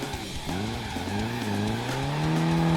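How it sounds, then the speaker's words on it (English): A car drifting in the BeamNG driving game squeals its tires in a long, wavering screech over a rising engine drone, close and loud with no speech. "You can't really hold a drift too well unless you're actually good at drifting"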